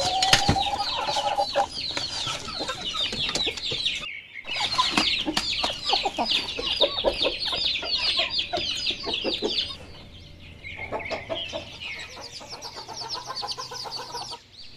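Chickens cluck and chatter continuously at close range in a backyard coop, a busy layered mix of clucks and calls with a brief lull partway through.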